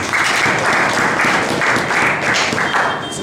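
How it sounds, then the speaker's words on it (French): Students at a university faculty gathering applaud and cheer, a loud, continuous wall of clapping with rhythmic surges that holds steady without a break. "à qui je demande votre acclamation"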